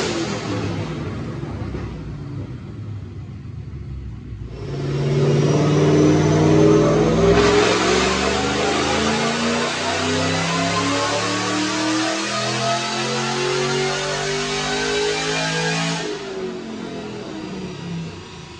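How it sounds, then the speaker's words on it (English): A supercharged 2010 Roush 427R Mustang with M90 supercharger, cams and headers makes a dyno pull: after a lower rumble, the engine roars loudly and climbs steadily in pitch for about ten seconds, then cuts off abruptly. "stick around, watch a couple of these dyno pulls"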